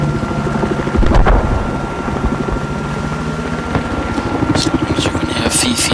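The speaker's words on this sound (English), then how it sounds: "an enemy helicopter" An enemy helicopter in Battlefield 4 gives off a continuous whirring rotor drone mixed with gunfire and wind-like game noise, while players talk over it.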